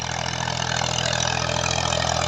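A 2000-model Massey Ferguson 240 tractor pulling a nine-tine cultivator through a field in Punjab, Pakistan drones with a steady, loud, close engine rumble under load, with no talk.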